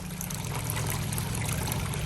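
Garden water fountain in an English garden trickling steadily, a dense continuous splashing and burbling of water heard close up with no pauses, doubling as a pet's drinking bowl.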